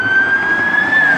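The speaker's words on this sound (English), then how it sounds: "ambulance?" A siren wails loud and close, its pitch sliding up slowly in one sustained tone over traffic rumble, lasting only about a second.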